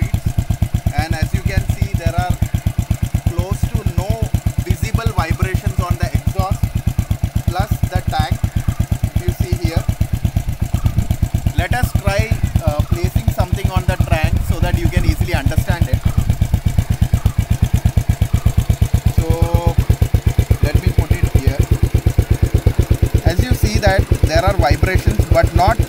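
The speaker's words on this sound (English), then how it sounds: "now the GT is at its idle speed." A Royal Enfield GT motorcycle engine, fitted with a vibration reduction plate, idles close by with a steady, even thumping beat that runs unbroken throughout.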